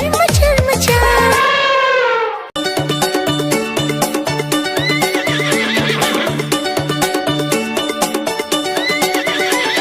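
A horse whinnies loudly and close at the start, then rhythmic hoof clip-clops run steadily under bouncy children's rhyme music for several seconds.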